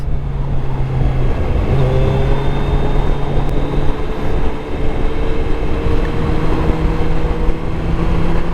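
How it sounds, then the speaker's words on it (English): A motorcycle motor and exhaust rumble loud and close at a Nashville motorcycle show, a steady dense roar with engine tones drifting throughout, and no voices on top. "You hear that motor? I mean, that exhaust."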